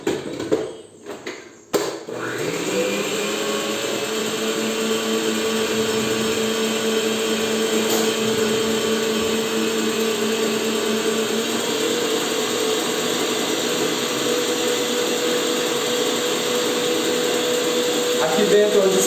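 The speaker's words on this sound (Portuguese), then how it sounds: "Vamos ligar a batedeira." An electric mixer whirs steadily while beating egg whites into stiff peaks, a continuous loud motor drone that starts after a few clicks and runs uninterrupted.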